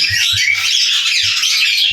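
Dense, continuous bird chatter and chirping from many birds, loud and close, with low thumping underneath.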